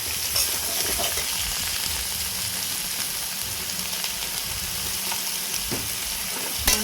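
Mixed vegetables fried with a little salt in a pan for a Bengali mixed-vegetable dish with bottle gourd leaf fritters, steady close sizzling with stirring scrapes and small spatters throughout.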